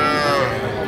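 A bull calf at a cattle market gives one loud, close, drawn-out moo that fills the moment, with faint crowd murmur beneath.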